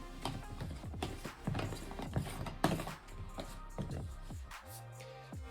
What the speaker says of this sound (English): I'm going to put the little mixer thing in there and give it a good shake